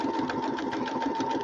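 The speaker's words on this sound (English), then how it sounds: "not being up next to the sewing machine makes it a little bit harder to sew" A sewing machine stitches a strawberry quilt, running in a fast, even mechanical chatter that is close and steady for the whole short stretch.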